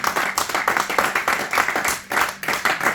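A church congregation clapping in praise during a sermon, brisk rhythmic hand claps in a steady beat from many people, close and lively, with no voices over them.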